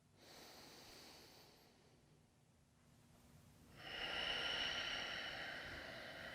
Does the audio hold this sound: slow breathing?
yes